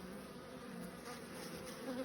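Buckfast honey bees from a hive with a queen hum in a steady, even drone, soft and unbroken throughout, with no voices.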